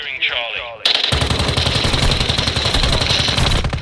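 The BAS-B battle rifle fires in Call of Duty Warzone Mobile as a loud, rapid string of close shots that runs for about three seconds after a brief muffled opening.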